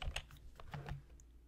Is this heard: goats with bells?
no